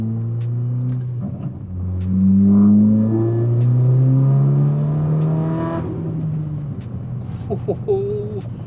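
A Volkswagen GTI with an 034 Stage 2 tune pulls hard from inside the cabin. The engine note climbs steadily through the gear, loud and close, and a voice talks over it.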